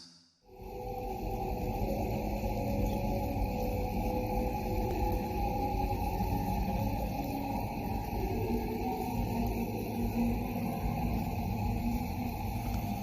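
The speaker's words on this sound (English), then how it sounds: "This is the sound of Deimos." A dense, rumbling electronic wash, a sonification of the Martian moon Deimos, with faint whistling overtones swells in and then holds steady, eerie and continuous, with no voices.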